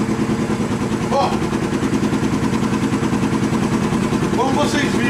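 A Honda Shadow 750 motorcycle engine idles steadily nearby with a rhythmic mechanical clatter, running continuously while a person talks over it.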